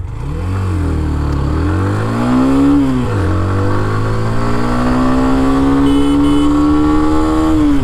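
A Hero Xtreme 125R motorcycle pulls away from first gear, its engine loud and close, revving in a rising whine, dropping briefly on a gear change and then climbing steadily again.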